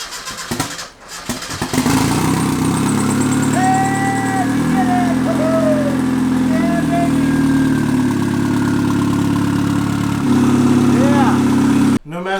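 A turbocharged and supercharged off-road car engine cranks, catches and settles into a loud, rough, throbbing run right after a jump-start, its revs blipping up and down close by; voices talk briefly over it.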